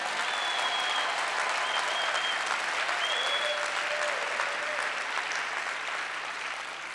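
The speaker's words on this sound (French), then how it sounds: "On peut acclamer le Seigneur pour ça." A church congregation at a national men's convention applauds in a loud, sustained, dense wash of clapping with scattered cheers and voices, fading slightly toward the end.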